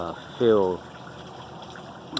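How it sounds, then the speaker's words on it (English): A bubble machine pumps soap liquid while its fan runs, giving a steady whirring hum throughout. A short voice-like tonal sound rises briefly over the drone near the start. "the soap liquid is running"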